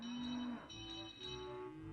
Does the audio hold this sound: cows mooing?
yes